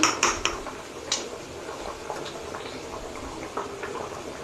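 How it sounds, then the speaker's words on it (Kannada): Water boiling in a pot on a gas stove for ragi mudde, a steady bubbling hiss with scattered clinks and taps of utensils, no talk. "ನೀರು ಚೆನ್ನಾಗಿ ಬಾಯ್ಲ್ ಆಗ್ತಾ ಇದೆ."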